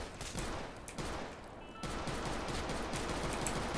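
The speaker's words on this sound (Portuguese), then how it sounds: "Vou dar um tiro nele, gente." Gunfire aimed at a zombie behind a house in the video game Teardown: a steady, loud barrage of shots with a brief lull near the middle, then continuous fire to the end.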